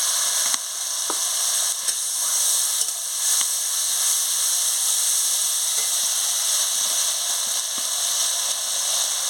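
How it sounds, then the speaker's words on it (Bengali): Spice paste sizzles loudly in a pan with a splash of water while cooking for a prawn malai curry, a constant close hiss and steamy crackle with light stirring scrapes throughout. "সামান্য একটু জল দিয়ে মশলাটাকে ভালো করে কষিয়ে নেব।"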